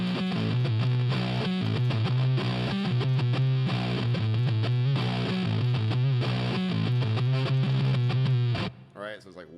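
An electric guitar set to a chunky, sludgy distorted tone chugs out heavy, loud riffs with thick low-end palm-muted notes, playing continuously before cutting off abruptly near the end.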